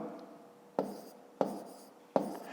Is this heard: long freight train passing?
no